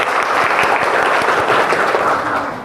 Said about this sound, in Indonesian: Nanti di akhir tepuk tangan boleh.